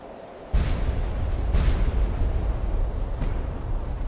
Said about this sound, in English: I underestimated the explosion.